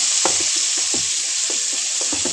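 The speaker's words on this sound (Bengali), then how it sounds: "এগুলো এবার ভালো করে একটুখানি ভেজে নেব।" Beans and carrots frying in a pan for vegetable chowmein, a loud continuous hiss of oil with soft repeated stirring scrapes underneath.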